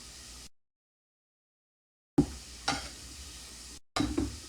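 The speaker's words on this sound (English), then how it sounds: "Now we got the sizzle coming." Peppers hit a hot pan and sizzle in short bursts broken by silent gaps, with a few stirring clatters; faint and close.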